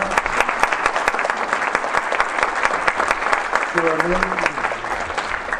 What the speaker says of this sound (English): he was very worthy of the applause